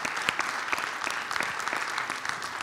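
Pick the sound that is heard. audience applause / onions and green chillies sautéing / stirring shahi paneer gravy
audience applause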